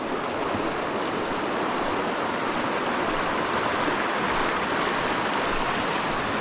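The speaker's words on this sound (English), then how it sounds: "And a river crossing on a log." A river flowing beneath a log crossing on a mountain trail, making a steady, dense rushing roar of water close by and continuous from start to finish, with no talking.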